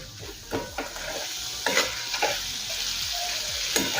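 Jaggery and coconut filling stirred and cooked in a pan over a low flame, with steady soft sizzling and intermittent scraping strokes of a spoon, fairly close and with no talk.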